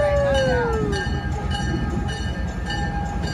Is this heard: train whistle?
yes